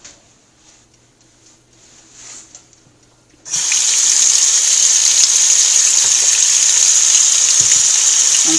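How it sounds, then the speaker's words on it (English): A kitchen tap is turned on over a sink to wash oxtail for a Jamaican oxtail dish. After a few quiet seconds, water gushes on loudly and runs steadily and close by. "I'm going to wash mine and show you in the sink right now"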